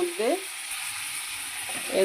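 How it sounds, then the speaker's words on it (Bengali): Black cumin seeds dropped into hot oil in a home kitchen pan, giving a steady, soft sizzle and crackle that runs throughout, with a brief stir or clink at the start and end. "এতে একটু তেলের মধ্যে একটু কালো জিরে দিয়ে দিলাম"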